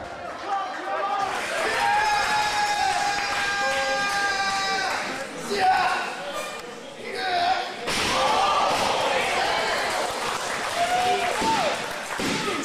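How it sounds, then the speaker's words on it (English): A wrestler hits the mat hard from a double underhook piledriver in a 16-foot ring: a loud slamming thud amid a roaring, cheering crowd, with an excited commentator talking over it. "Double underhook pile driver."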